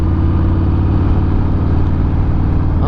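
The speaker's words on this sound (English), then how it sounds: "riding my friend Ryan's 2020 Fatbob" A 2020 Harley-Davidson Fat Bob being ridden: a loud, steady V-twin engine thrum with a rhythmic low pulsing that holds at a constant pace close up, with no talk over it.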